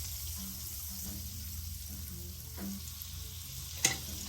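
Butter and olive oil sizzle in a skillet on medium-high heat, a soft, continuous, close hiss with a brief sharp clink near the end.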